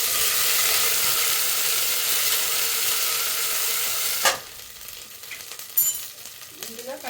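Ginger garlic paste hits hot oil with chicken in a pan for country chicken pulao, giving a loud, steady frying sizzle that cuts off abruptly partway through, leaving quieter clinks and stirring sounds.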